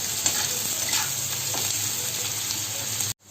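Onions frying in a pan over a medium flame while making a desi-style chicken kassa, a steady close sizzle with light stirring scrapes, cutting off abruptly near the end.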